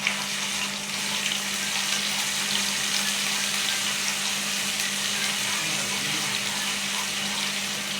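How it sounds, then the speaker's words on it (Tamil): Ginger and garlic frying in hot oil, a continuous dense sizzle close by at steady loudness throughout, with a low hum beneath and no voices. "எண்ணெய் காஞ்சோடனே கொஞ்சம் இஞ்சி பூண்டு போட்டு வதக்கணும்."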